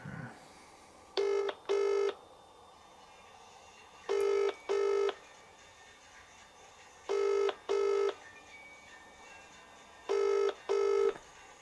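Four paired bursts of telephone dialing tones repeat at a steady rhythm over a quiet hiss, each pair a short double beep like a ringback or keypad tone, fairly faint and with no voices.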